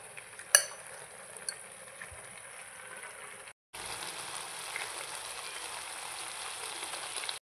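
Chicken filling for chicken balls sautés in a pan with a soft, steady sizzle, broken by a sharp click near the start and a brief gap midway.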